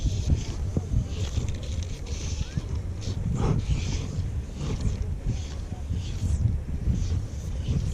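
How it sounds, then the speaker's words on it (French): Wind gusts buffet the microphone outdoors beside a river while fly fishing for black bass at Rio Caldo in Gerês, Portugal, a steady broadband rush with low rumble lasting throughout. "Là j'ai le vent."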